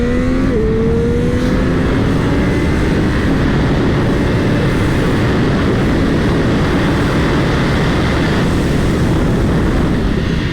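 Triumph Street Triple 765 motorcycle accelerating hard on a track, a loud continuous engine roar rising in pitch then holding under dense wind noise.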